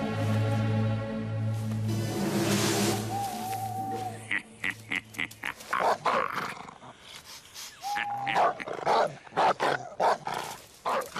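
Several short dog barks in an irregular series, fairly close, following a stretch of sustained tonal music.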